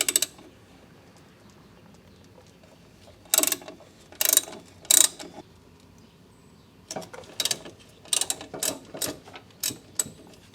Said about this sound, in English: using a 10mm socket I'm going to loosen up those bolts